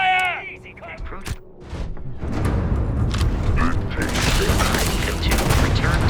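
Weapon fire in the sci-fi game Starfield, a dense run of blasts and booms that starts about two seconds in and stays loud and continuous, with a voice calling out over the combat noise just before it begins.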